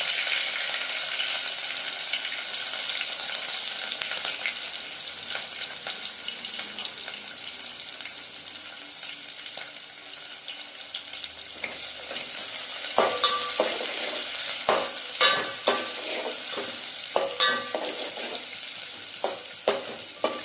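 Onions and green chillies frying in a pan give a steady, moderately loud sizzle with scattered clinks and stirring scrapes that grow busier toward the end, and no one speaks.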